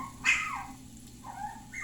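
A dog yelps with a sharp high bark, then trails into thin, wavering whimpers and whines, close by and alone without any talk.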